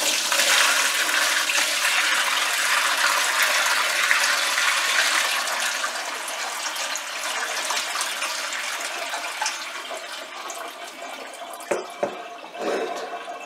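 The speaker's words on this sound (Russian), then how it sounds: "Всю воду мы сливаем." Water from soaked grapefruit peels drains into a kitchen sink, a steady broad rushing pour that runs alone for most of the stretch, easing slightly and ending with a few brief gurgles and splashes.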